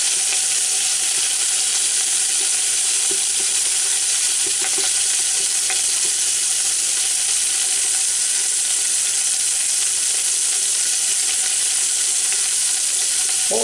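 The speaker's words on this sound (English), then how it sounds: "What we're trying to do is sear all those flavors and juices inside of it" Pot roast searing in an Instant Pot gives off a loud, steady, close sizzle that lasts throughout, with faint stirring scrapes underneath and no talking.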